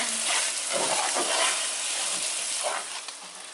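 Venison filling for a shepherd's pie sizzles and hisses steadily in a hot pan as tomato paste is stirred in, a loud, continuous frying wash with soft scraping of the mixing, no speech.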